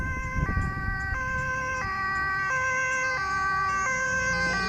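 An ambulance siren in Zoetermeer, Netherlands cycles steadily between two tones, a European-style hi-lo wail, fairly close with faint road noise beneath, vehicles using tram tracks.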